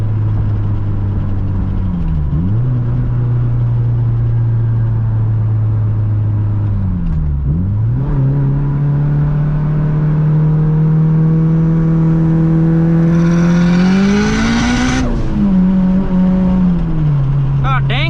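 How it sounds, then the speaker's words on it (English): Turbocharged Mitsubishi Evo 9 MR with a top-mount 6466 turbo at 26 psi, engine droning then rising hard under acceleration, with a hissing wastegate burst near the top before the revs drop; loud in-cabin sound. "Wastegate opened and everything before I took off."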